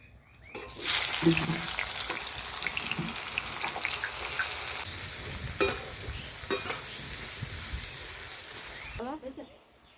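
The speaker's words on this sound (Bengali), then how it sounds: "তেল গরম হয়ে গেছে, এবার আমি দিয়েছি তেজপাতা, গোটা গরম মশলা আর 2টো এলাচ ফোড়নে। পেঁয়াজগুলো দিয়ে দেব।" Onions hit hot oil already seasoned with bay leaf, whole garam masala and two cardamom pods, setting off a loud, steady sizzle that runs close and continuous, with occasional spatula clinks and stirring scrapes, before cutting off near the end.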